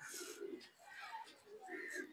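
A racing pigeon of the Janssen line coos softly in a loft, several low rolling coos in quick succession, faint and close, with someone talking over them.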